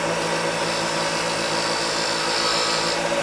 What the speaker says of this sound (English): So with my skew, I'm going to clean up this one line.